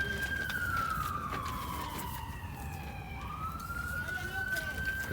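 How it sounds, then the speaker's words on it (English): Sirens from a nearby fire station in Long Beach wail steadily, one tone sweeping slowly down and back up, loud and continuous over outdoor background noise during a lawn bowls match. "And we have some sirens."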